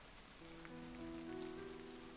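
Faint, steady rain from a free Japanese horror game hisses evenly throughout, with soft, low sustained tones underneath and no voices.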